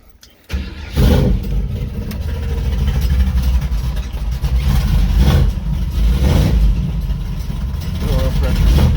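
Turbocharged Chevrolet C10 truck engine cranking and catching after a moment of quiet, then running unevenly with a struggling fuel pump, loud and close, with a voice talking in the background.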